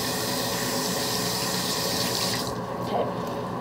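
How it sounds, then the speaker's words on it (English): Tap water runs steadily from a faucet into a sink while hands are washed, a loud continuous splashing rush that thins out toward the end, with no voices. "I'm gonna wash my hands real quick."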